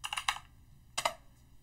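Typing code on a computer keyboard: a quick cluster of close clicky keystrokes, a pause, then another short burst of two or three taps, heard alone in a quiet room.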